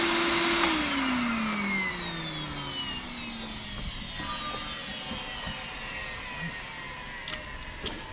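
A pool blower runs steadily at an inground pool being closed for the season, a loud continuous whine that winds down in pitch over several seconds as the motor is shut off, leaving lower rumbling noise.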